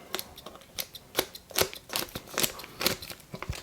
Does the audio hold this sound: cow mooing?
no